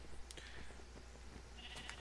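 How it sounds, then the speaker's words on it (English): Sheep in the video game Minecraft bleat faintly in two short calls, one early and one near the end, over a low steady background hum. "I've got all these sheep."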